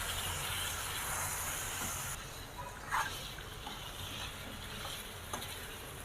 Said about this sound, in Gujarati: હવે એમાં પાંચસો ગ્રામ ચિકન નાખી હાઈ ફ્લેમ પર પાંચ મિનિટ પકાવી લઈશું